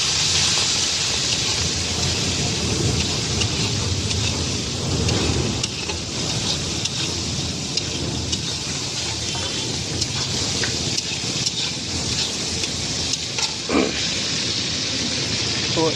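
Raw prawns fry in hot oil in a home kitchen, a steady loud sizzle and hiss running unbroken throughout with faint clinks near the end.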